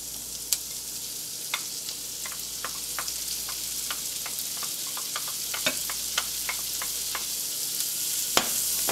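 Leeks and shallots cook gently in melted butter in a frying pan, giving a continuous soft sizzle dotted with small pops and crackles, steady and close, with no talking.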